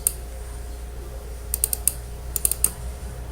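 Quick pairs of sharp, close computer mouse clicks while working in Promob furniture design software, several crisp double-clicks in short bursts over a low room hum, with no talk.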